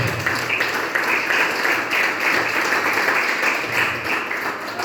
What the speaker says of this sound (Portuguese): Aplauda Jesus essa noite, muito forte.